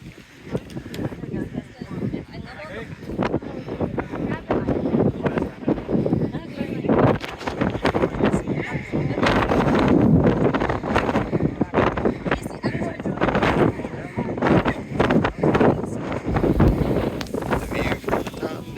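Strong wind buffets the microphone on an exposed ridge trail, roaring and gusting continuously for the whole stretch with brief rustles, without any steady speech.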